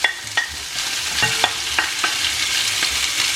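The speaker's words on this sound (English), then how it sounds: "Then we're going to add the onion, garlic and the spring onion in there" Onion, garlic and spring onion fry in olive oil for spicy prawn spaghetti, a steady close sizzle broken by repeated scraping stirs of a utensil in the pan.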